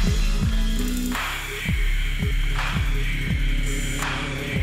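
Synth loop run through an Elektron Analog Heat whose drive ducks each time a loud transient crosses the threshold, giving a steady pulsing beat of punchy low thumps under sustained distorted hiss and tone, with no voices.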